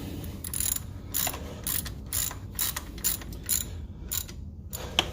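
A ratchet tightens bolts during alternator removal on a 2002 Jaguar X-type, giving repeated quick clicking strokes in an irregular rhythm, close up and moderately loud, with no talking.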